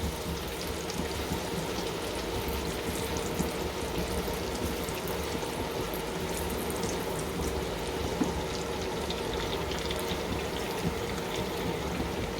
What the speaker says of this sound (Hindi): गाजर थोड़ी सी हार्ड है तो इसे 1 मिनट के लिए हम फ्राई करेंगे।